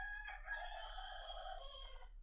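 A rooster crows once, clear and close, in a single long cock-a-doodle-doo over a low steady hum.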